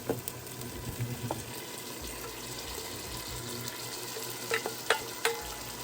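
Red kidney beans frying with garlic and epis in rapeseed oil, a steady close sizzle with a few sharp spatula scrapes and clicks near the end.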